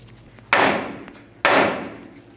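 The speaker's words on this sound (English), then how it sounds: "We'll grab a hammer, and we'll hit right here on our knuckle, try and drop our tie rod down." Two loud metallic hammer blows on the steering knuckle of a 1992-1996 Ford F-150 to drop the tie rod, each a sharp strike followed by a ringing decay, about a second apart.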